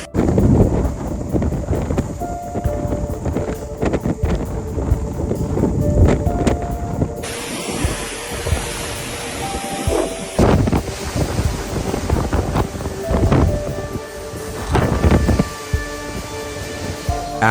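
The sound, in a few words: typhoon wind and storm in Hong Kong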